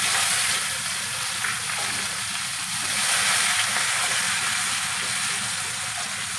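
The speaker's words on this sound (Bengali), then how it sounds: "এবার পেঁয়াজ কুচি দিয়ে দিলাম," Chopped onions hit hot oil already crackling with cumin seeds for a fish curry, giving a loud, steady sizzle and hiss that runs unbroken throughout.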